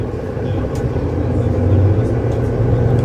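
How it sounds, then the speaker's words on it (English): Mercedes-Benz Citaro C1 bus engine, a steady low drone heard from nearby, probably from inside the bus, with the pitch rising slightly in the second half. "the units from the production batch actually sound similar to this bus"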